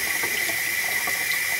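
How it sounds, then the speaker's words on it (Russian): Tap water running steadily over makeup brushes as they are rinsed, a close, loud, unbroken hiss of flowing water with no voices. "Под проточной водой"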